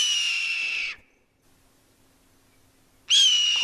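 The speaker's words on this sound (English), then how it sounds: "Classic red-tailed hawk call, right?" A red-tailed hawk gives two loud, hoarse, descending screams separated by a silent pause, heard alone and close.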